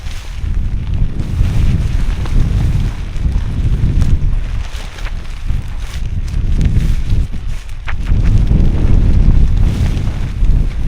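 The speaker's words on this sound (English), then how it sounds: "See, it's a bit windy" Wind buffets the microphone in steady low rumbling gusts outdoors in stormy weather, rising and falling continuously with no voices.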